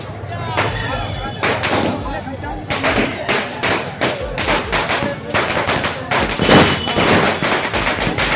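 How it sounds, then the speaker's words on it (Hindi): Firecrackers burst at a BJP workers' celebration: a rapid, irregular string of loud, sharp cracks and pops, some close and some farther away, with crowd noise mixed in. "कार्यकर्ता उत्साहित होकर पटाखे फोड़कर जश्न मनाते दिखे।"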